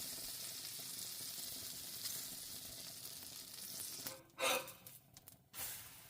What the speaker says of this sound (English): enjoy the sizzle and the metal scraping on the griddle, and definitely the sizzle of the melting butter